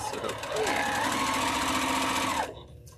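A Luminaire embroidery sewing machine quilting fabric in an XP3 hoop runs with a steady, close mechanical whir for about two and a half seconds, then stops, leaving quiet room tone.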